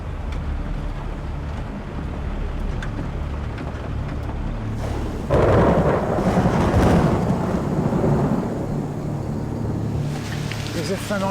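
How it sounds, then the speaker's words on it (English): Thunder during a tropical storm in the Amazon jungle, a deep rolling rumble that swells suddenly midway over a background of rain and wind, loud and near, with no talking. "the thunder's just let rip too."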